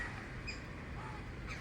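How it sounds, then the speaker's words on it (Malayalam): Birds calling outdoors by a house in the forest, faint and mixed into a steady wash of rainy-season ambient noise, with a couple of brief high chirps standing out over the background. "എന്തോ കിളി കരയുന്ന അവിടെ ഇരുന്ന്."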